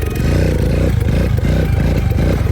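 A motorcycle fitted with a GN Works Throttle Direct Carburation System revs loudly and close by. It gives a run of quick, pulsing throttle blips that rise and fall in a steady rhythm.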